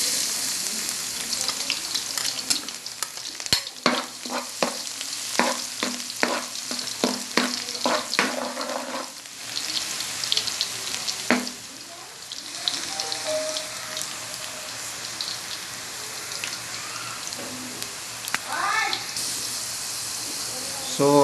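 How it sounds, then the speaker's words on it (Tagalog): Garlic sautés in a hot pan while Chicken Mongolian is being cooked, a continuous crackling sizzle with bursts of stirring and scraping, and a person speaks intermittently over the frying. "Gigisa na natin yung bawang."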